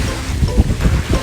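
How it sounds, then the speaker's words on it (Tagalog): Strong wind buffets the microphone in a low, gusting rumble at Pasir Ris Beach, Singapore. "Mahangin!"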